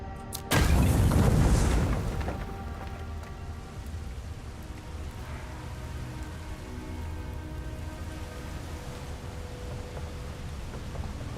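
A grenade explodes in the video game Avowed: one loud, close boom with a broad rumbling burst that dies away over about a second, followed by a steady, quieter layer of game ambience and a faint tonal hum.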